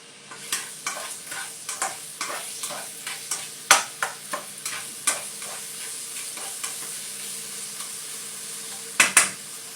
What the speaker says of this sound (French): poireau et céleri que je mets dans l'huile. Je baisse le feu complètement. Je fais revenir dans l'huile là.